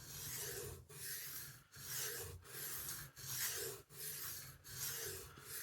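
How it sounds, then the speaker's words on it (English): A restored knife's freshly sharpened edge is stropped in about eight even, rasping strokes at a steady rhythm, close up, with no voices. "give it a quick strop"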